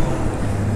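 Heavy road traffic rumble as a truck passes a Honda Goldwing motorcycle on the road, a loud, steady low roar filling the whole moment with no break.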